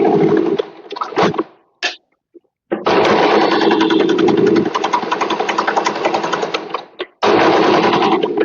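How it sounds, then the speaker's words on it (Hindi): Electric sewing machine stitching along old saree cloth being made into a chunni, running in loud steady bursts with brief stops and a short restart, nearby and alone. "इसके ऊपर हम सिलाई लगा देंगे। मशीन को वापस टर्न करके"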